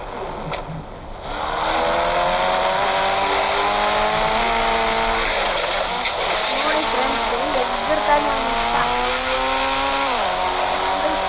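A Toyota Fortuner SUV passes close by, its engine a steady loud drone with shifting harmonic tones that rise and fall over several seconds, while voices talk faintly in the background.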